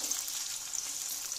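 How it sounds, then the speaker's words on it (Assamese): Potatoes fry in hot oil in a wok, giving a steady, close hiss and crackle with small pops for about a second and a half, with no voices. "এইফালে কেৰাহী এটা পাতি লৈছোঁ আৰু ইয়াতে তেল গৰম হৈ গ'ল আৰু আলুখিনি অকণমান আগতে অকণমান ৰঙচুৱাকৈ ভাজি ল'ম"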